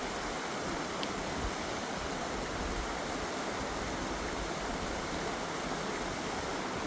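A Missouri stream runs over rocks, a constant broadband rush of water that stays loud and steady, with no voices.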